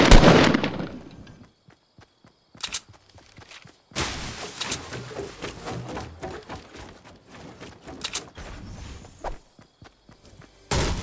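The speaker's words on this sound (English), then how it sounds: "You're shooting at me" In a multiplayer video game match, one loud blast opens, then scattered shots and clattering footstep-like thumps follow in irregular bursts, mostly close and sharp, with no speech.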